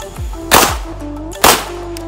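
Two loud, close blasts from a semi-automatic traumatic pistol, about a second apart, each a sharp crack with a brief ringing tail, over a faint steady hum.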